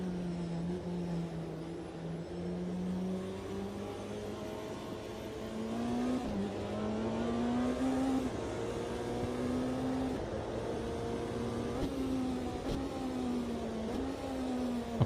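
Race car engines from an Automobilista 2 online LFM race drone steadily and close, pitch climbing and dipping through gear changes over about fifteen seconds with no voices.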